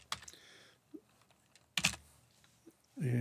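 A few quick computer-keyboard keystrokes enter a command, sparse clicks in short bursts separated by quiet gaps, close and fairly soft, ending with a louder sustained noise.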